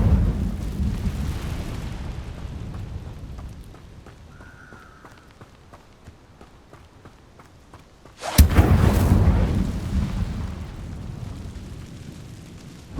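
The Incendio fire spell goes off in Hogwarts Legacy with a sudden loud burst that flares into a roaring rush of fire, then fades over a few seconds after a quieter stretch of low rumble.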